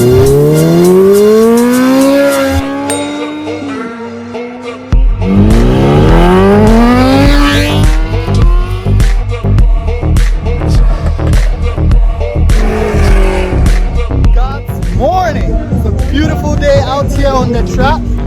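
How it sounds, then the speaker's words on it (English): A modified car on an airstrip drag race track revs hard, engine pitch climbing in repeated loud sweeps with a brief lull before it roars again, close and dominant, with people talking faintly beneath. "we're about to have Prime go for his warm-up lap"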